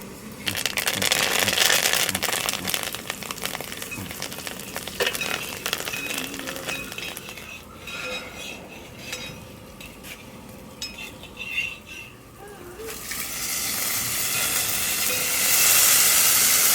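Curry leaves crackle and sizzle in hot oil for a yam flower masala curry, a loud hissing spatter with stirring clatter that eases midway, then swells into a bright hiss at the end.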